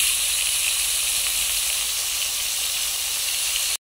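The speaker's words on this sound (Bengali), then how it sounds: "মাছগুলো ভাজতে দিব, মাছ দিয়ে দিচ্ছি ভাজার জন্য।" Fish sizzles loudly in hot oil in a pan, a bright continuous crackling hiss with no talk, cutting off abruptly at the end.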